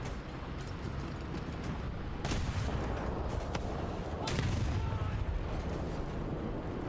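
Tank cannon fire in the War Thunder video game, with heavy booming shots and rumbling battle noise over a dense, continuous low roar, two louder blasts standing out midway.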